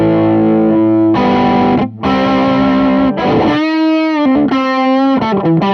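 Distorted electric guitar playing sustained chords and a few riffs through a Bogner Ecstasy Mini amp head, loud and gritty, with brief pauses between phrases.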